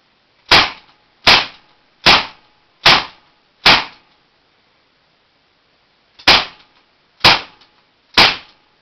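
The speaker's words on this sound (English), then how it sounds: "Today I will be shooting my powerline air pistol with a laser touch sight" A Daisy Powerline air pistol with a laser sight fires eight sharp, loud, close shots during target practice: five evenly spaced at under a second apart, a pause of about two and a half seconds, then three more.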